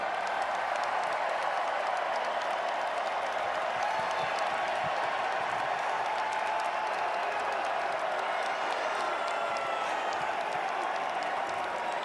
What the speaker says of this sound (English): I don't think the 12s will ever stop cheering.